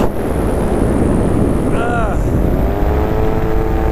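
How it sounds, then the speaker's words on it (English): A model aircraft's electric motor runs steadily under power in strong wind, with a constant buzzing whine and a brief rising pitch sweep near the middle. "This motor is strong."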